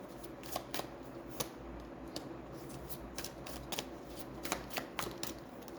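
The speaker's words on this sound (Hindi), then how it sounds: "मैं बहुत ज़्यादा शफल इसलिए कर रही हूँ" Tarot cards are shuffled by hand in rapid repeated riffling flicks, a steady crisp rhythm close to the mic over a low background hum, with no voices.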